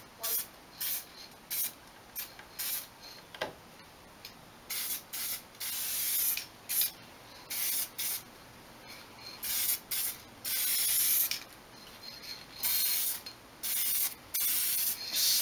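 Clear coat sprayed onto a Stratocaster guitar body over metal flake paint, heard as repeated short hissing bursts from a spray can or gun, close and fairly loud, separated by brief pauses.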